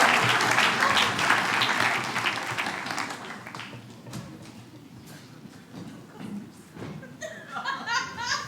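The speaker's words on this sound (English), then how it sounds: "Give Aaron a big round of applause." Audience applause and laughter at a stand-up comedy show, loud dense clapping that gradually thins and fades over several seconds, with scattered chuckles and a voice near the end.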